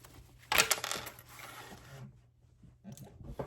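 A domestic sewing machine stitches down a fabric edge on an appliqué bag, with a short burst of rapid clattering stitches, a brief quieter pause, then another short run.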